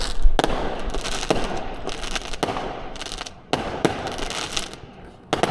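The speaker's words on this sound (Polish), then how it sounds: "A tam ktoś petardami strzela." Firecrackers going off outdoors make a series of sharp, loud bangs at irregular intervals, some close together and some spaced apart, over a faint background hiss.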